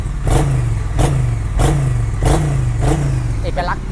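A Triumph twin-cylinder motorcycle engine with a 90-degree crank revs in about six short, evenly spaced bursts, loud and close, with a brief high whine near the end.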